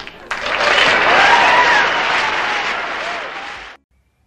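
Loud applause and cheering from a small group at an apartment red-carpet event, rising sharply at the start, holding steady, then cutting off abruptly.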